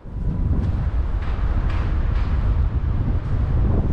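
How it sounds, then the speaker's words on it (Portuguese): Strong wind buffets the microphone on a rooftop by the beach at Guarujá during kite flying, a loud continuous low rumble with gusty swells throughout. "Tem vento, tá batendo vento."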